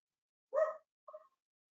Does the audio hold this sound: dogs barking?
yes